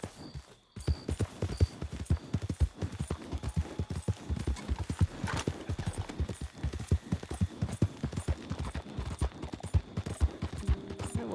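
Horse hooves clip-clop steadily and close in Red Dead Redemption 2 as a temporary horse is ridden, a continuous rhythmic trot lasting throughout with faint background hum.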